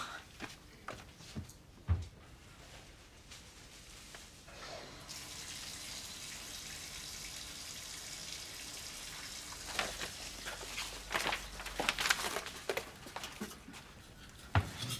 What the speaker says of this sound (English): I'm going to have a shower if you're finished in the bathroom.